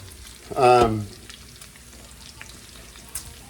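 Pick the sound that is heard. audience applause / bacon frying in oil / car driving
bacon frying in oil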